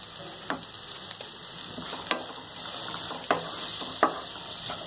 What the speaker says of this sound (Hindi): और इसे मैं अच्छी तरह मिक्स कर रही हूँ